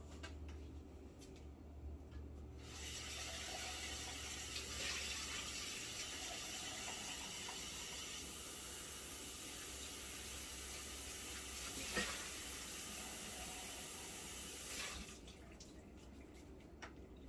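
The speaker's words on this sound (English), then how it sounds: "let me rinse this jar out real well" A canning jar rinsed under a running tap at a kitchen sink, with a steady broadband wash of flowing water that continues for most of the stretch, fairly close but soft.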